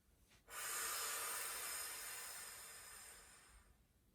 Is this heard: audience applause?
no